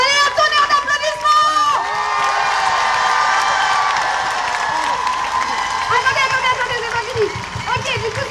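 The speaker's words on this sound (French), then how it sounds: "un tonnerre d'applaudissements!" A crowd at a women's rights rally in Bordeaux claps, cheers and whoops in a sustained, loud wash of applause, with shouts and voices mixed in throughout.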